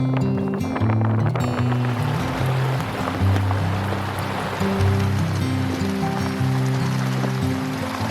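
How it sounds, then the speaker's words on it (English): Steady wind and rain around an anchored sailboat, a continuous rushing and hissing wash with a low droning tone underneath, with no one speaking. "Be prepared for the wind and rain."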